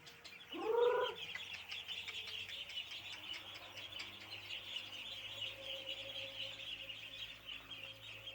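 Young Packing and hybrid ducklings on their fifth day, calling as they are fed: one loud, close call near the start, then a steady, high chorus of peeping over a low hum.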